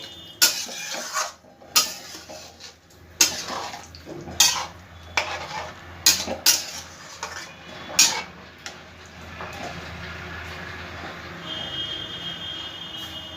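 A spoon clinks and scrapes against a cooking pot while stirring potatoes, spices and water for a jackfruit curry, with sharp irregular knocks for several seconds before settling into a steady low simmering hiss.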